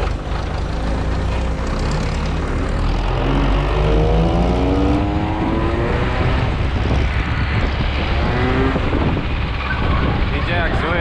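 Ursus C360 tractor running on a road after an overhaul, its engine a loud continuous rumble close by with shifting tonal whine throughout.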